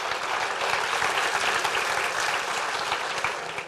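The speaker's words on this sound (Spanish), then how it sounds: "Un aplauso para el Señor." A church congregation claps together in a steady, dense burst of applause that holds evenly and tapers slightly at the close, with no voices over it.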